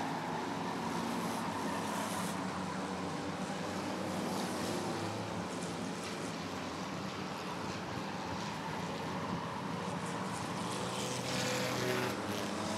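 Sixers race cars race at Rockford Speedway, a dense, sustained roar of several engines heard from a distance, steady throughout with slight swells as cars pass.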